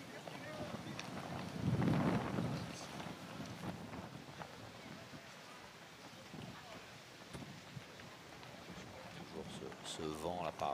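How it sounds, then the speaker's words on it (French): Gusty wind at an outdoor pétanque tournament semi-final, rushing in uneven bursts with a strong gust early on, heard beneath a commentator's voice. "Toujours ce vent là par rafale qui fait un petit peu hésiter Stéphane Robineau"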